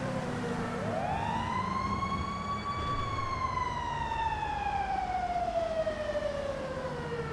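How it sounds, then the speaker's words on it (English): A fire truck siren in Grand Theft Auto V Online wails, rising and slowly falling in a long sweep, steady and fairly clear over a low rumbling background, with no talking. "Oh, it's a fire truck."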